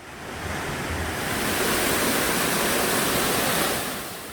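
Yeonsan waterfall, a tall falls, gives off a dense, continuous roar of crashing water that swells in, holds steady and loud, then fades out with no voices.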